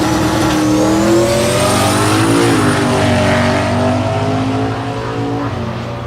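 Drag race cars make a pass at Thunder Valley in Noble, Oklahoma, a loud sustained engine roar with rising pitch as the cars accelerate down the strip, steady and close, no talk.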